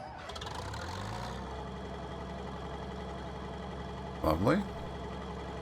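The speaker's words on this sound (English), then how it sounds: "Let's get the engine fired up." A combine harvester engine in Farming Simulator 19 cranks over with a rising whine, then settles into a steady low idle drone; someone briefly speaks over the rumble near the end.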